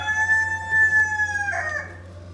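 A broody hen gives a drawn-out, tonal cluck that rises into a strained squawk near the end, close and alone over a low steady hum.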